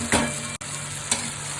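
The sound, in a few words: frying and stirring small fish curry (chuno macher chorchori)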